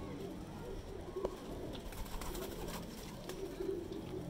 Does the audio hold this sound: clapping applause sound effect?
no